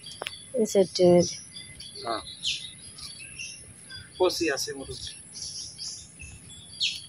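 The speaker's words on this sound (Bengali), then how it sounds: "আরো 3টা মুরগি বাচ্চা আছে।" Young domestic chicken chicks give thin, high, short peeps scattered across the scene. People talk nearby in two stretches, louder than the chirps.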